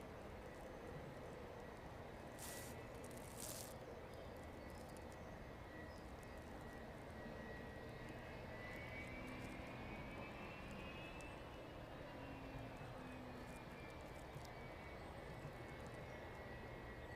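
An Atlas Air Boeing 747 cargo jet arriving at East Midlands Airport, a faint distant engine drone and whine over steady background noise, with a slowly shifting tone as the aircraft passes.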